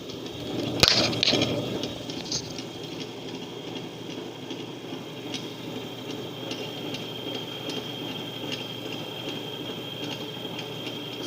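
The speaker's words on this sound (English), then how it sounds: "so this is the spinning disc" A gyroscope disc spins on a platform during a lab experiment, producing a steady, moderately loud whirring hum throughout, with a brief clatter near the start and faint ticks, no voices.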